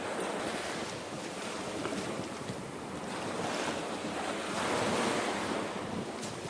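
Ocean waves break continuously on a sandy beach, with rolling surf and gusting wind buffeting the microphone and a swell building louder toward the end.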